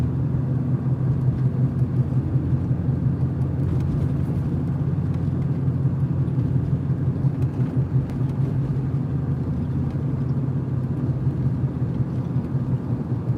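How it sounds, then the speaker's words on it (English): A truck engine idles steadily, a loud, constant low rumble with an even throb that persists without change, close by and with no talk over it. "Truck's just sitting here turned on."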